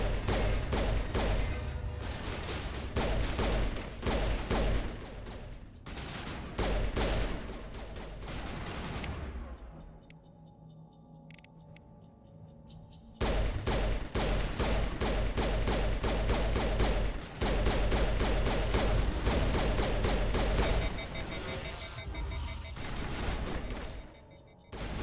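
Dense, rapid gunfire rattles in Mass Effect Legendary Edition during a fight against Geth-altered enemies. The shooting comes in long, loud bursts with a brief lull in the middle before resuming.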